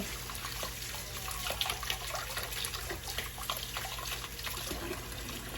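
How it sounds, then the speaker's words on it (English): Hot tap water runs steadily over makeup brushes being rinsed clean in a sink, a continuous splashing stream with small irregular spatters as the brushes move under it. There is no speech. "run it under the water, pinch it dry, and look at that"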